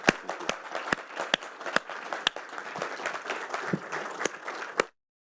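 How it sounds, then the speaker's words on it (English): A modest audience at a 2022 research summit gives a few seconds of applause, with scattered distinct claps over a light patter, ending abruptly. "I'd like to lead applause to thank you very much for your time"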